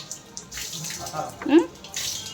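Water pours onto potted and hanging plants during summer watering, a splashing, gurgling flow that swells and fades with a brief louder gush midway; a voice speaks faintly in the background.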